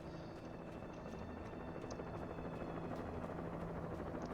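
A helicopter in the video game Alan Wake drones continuously, a steady rotor hum with rhythmic beating that holds at an even level throughout.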